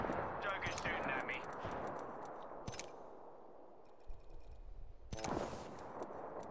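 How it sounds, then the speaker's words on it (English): Gunfire in the battle royale game Apex Legends, with rapid automatic bursts and sharp shots that fade, then a loud volley near the end, mixed with game mechanisms and talk. "Joker's shooting at me."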